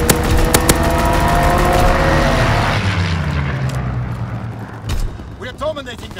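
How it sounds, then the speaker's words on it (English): Call of Duty WW2 multiplayer fighter plane strafing run: loud sharp gunfire bursts and a rumbling aircraft roar at the start, fading into a low drone with scattered distant blasts and a few later cracks. "Fighter pilot inbound, strafing the target."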